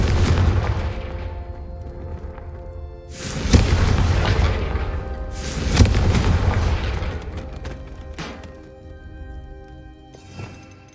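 Spell explosions from the Confringo curse in Hogwarts Legacy, with several loud booming blasts a few seconds apart, each followed by a rumbling decay and a sharper burst near the end.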